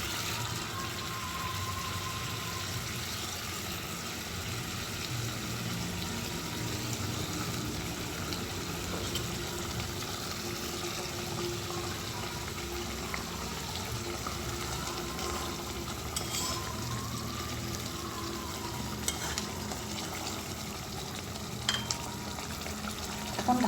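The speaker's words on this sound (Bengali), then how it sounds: "এখন আগে থেকে ফ্রাই করা মাছগুলো ছেড়ে দেবো।" Pre-fried fish drops into a boiling curry gravy in a pan, giving a steady bubbling sizzle with soft splashy stirring sounds and a few small clicks, continuous and moderately close.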